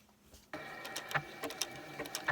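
A sewing machine starts stitching fusible appliqué on a quilt butterfly block, a quiet pause giving way to a steady mechanical whir with small rhythmic clicks, close and alone.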